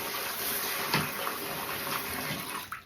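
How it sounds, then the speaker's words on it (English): Running water rinsing conditioner out of a short-haired Miniature Bull Terrier's coat, a steady close splashing stream like a bath tap that continues throughout with slight variations and no talking. "So now that the conditioner is all rinsed out, Orion usually shakes"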